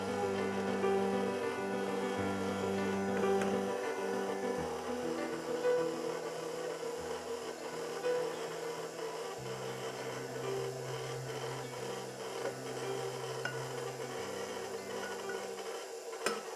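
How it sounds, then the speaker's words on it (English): A stand mixer runs on low speed kneading yeasted bread dough for Dutch sausage rolls, giving a steady motor hum with a slight rhythmic churn, alone and moderately close throughout. "We're going to turn the mixer on low"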